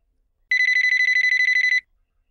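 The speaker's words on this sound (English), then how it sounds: "We say the phone is ringing" A cordless telephone rings with a rapid electronic trill, one bright sustained burst of quick pulses starting abruptly and stopping after just over a second, clear and alone against silence.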